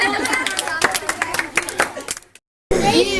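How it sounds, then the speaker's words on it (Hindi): An audience at an Islamic quiz on the messengers claps loudly for a child's correct answer. The clapping is brisk and close, mixed with chatter, then cuts to a brief silence before a voice returns. "माशाअल्लाह, बिल्कुल सही जवाब, जोरदार तालियां इनके लिए"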